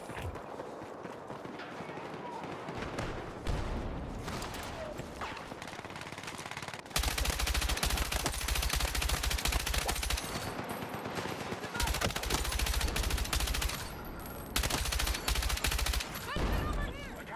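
An M123K machine gun in Battlefield 6 hammering out long, loud automatic bursts, with quieter pauses between them while distant battle noise and footsteps fill the gaps.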